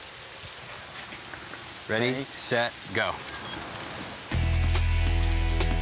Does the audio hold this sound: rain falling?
yes